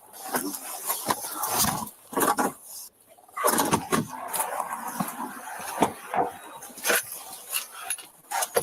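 A Staffordshire bull terrier whimpers and yips in short, repeated bursts at close range, with a few pauses and some faint voices behind it.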